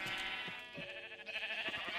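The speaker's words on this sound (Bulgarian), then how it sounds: "Брат, какви са ти овце, бе?" Sheep bleating in the video game Minecraft, several short wavering bleats over a dense layer of steady game music and effects.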